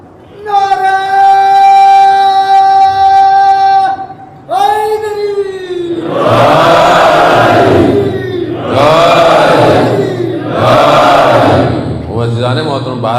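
A crowd at a Muharram majlis gathering roars slogans back in unison after a lone voice calls them out, several loud massed shouts in a steady call-and-response rhythm.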